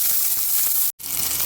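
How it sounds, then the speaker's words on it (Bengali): Chopped tomatoes sizzle in hot oil, a close, steady hissing fry broken by a brief silent gap before the sizzling resumes. "এখন দিয়ে দিব কুচি কুচি করে কাটা টমেটো।"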